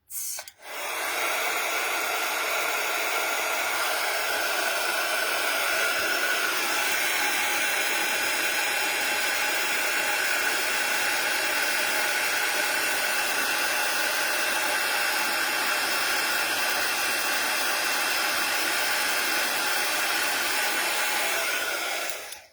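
A heat gun melts white embossing powder on a stamped card, blowing a loud, steady hiss that switches on almost at once and runs unbroken for about twenty seconds before cutting off.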